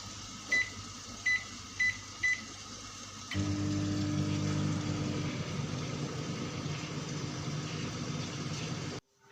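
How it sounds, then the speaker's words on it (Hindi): Four short beeps as a microwave oven is set, then a steady loud hum as it runs with a bowl inside for cleaning, stopping abruptly after several seconds. "तो बस फिर मैंने इसको ओवन के अंदर रख दिया और मैं इसको अब टाइम पे लगा देती हूँ"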